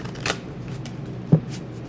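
A couple of brief papery card riffles, quiet and close, separated by a short pause, with faint background hum and no talking.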